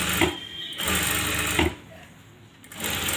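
A sewing machine stitches a garment neckline in short bursts, a near, buzzing whir that runs, pauses briefly, runs again and then drops to a quieter stretch before starting once more.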